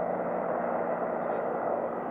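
A helicopter drones steadily in flight over river ice breakup in Yakutsk, a constant rumbling whir with no breaks, at a moderate distance.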